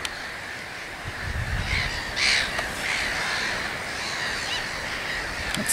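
Harsh gull-like calls repeat against a steady outdoor wash of wind or surf, some caws louder and nearer than others.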